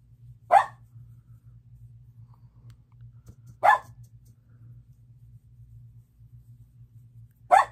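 A dog gives three single, separate barks spaced about three seconds apart, each short and fairly loud, over a low steady indoor hum.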